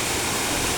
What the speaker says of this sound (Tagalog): So mao ni siya ang falls.